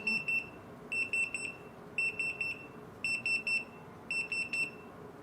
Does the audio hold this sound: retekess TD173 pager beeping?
yes